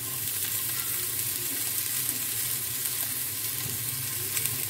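Potatoes frying in hot oil with mustard seeds, onion, green chilli and curry leaves for alu-patol bhujia, a steady, dense sizzle that carries on without a break.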